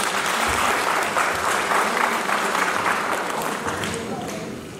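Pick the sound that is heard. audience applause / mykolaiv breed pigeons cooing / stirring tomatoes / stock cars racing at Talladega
audience applause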